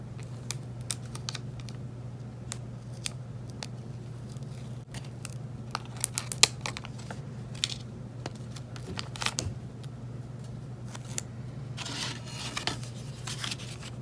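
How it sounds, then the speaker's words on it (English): White backing is peeled off Cricut vinyl letters held on transfer tape, giving faint, sparse crackles and small ticking snaps over a low steady room hum, with a denser patch of crinkling near the end. "Then you're gently going to peel away the white backing and make sure to keep all pieces of your letters on that transfer tape."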